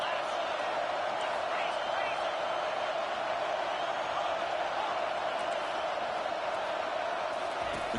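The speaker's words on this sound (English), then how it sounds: "The crowd is roaring, trying to help this defense on fourth down" College football crowd at a Clemson vs Oklahoma game roaring steadily on a fourth-down play, a dense, continuous wash of voices filling the stadium.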